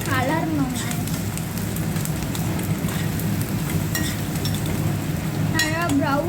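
Onions and egg being stirred and fried in a pan for egg poriyal, a steady close sizzle with scraping stir strokes throughout, under a faint voice.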